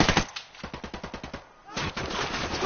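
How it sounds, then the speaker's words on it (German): Automatic gunfire in the video game Ghost Recon Wildlands, with a rapid string of about a dozen evenly spaced shots at moderate loudness, a brief lull, then a denser, rougher burst of firing. "die Unidad schießt aufs Kartell."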